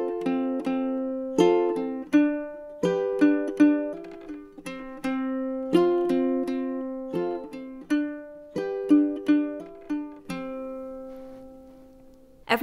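A ukulele plays a song, mixing fingerpicked notes with strummed chords in a steady, repeating rhythm, clear and close with no talking.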